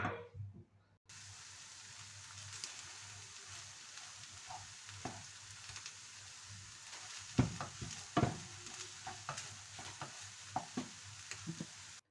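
Spices and minced fish for Maraş fish köfte are stirred together in a pan, a faint, close run of scrapes and soft clicks over a low, steady hiss, with a few sharper knocks partway through and no talking.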